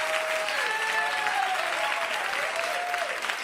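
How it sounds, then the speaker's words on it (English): A comedy club audience claps in sustained, dense applause, steady and fairly loud throughout, with faint crowd murmur underneath. "Don't clap."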